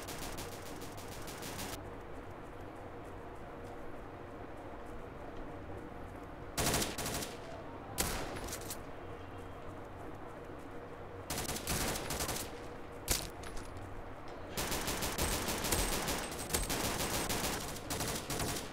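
Gunfire in the shooter game Kuboom: dense, loud bursts of automatic fire that stop and start, breaking up a constant background noise.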